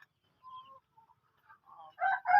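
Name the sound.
chickens in an egg production area on a farm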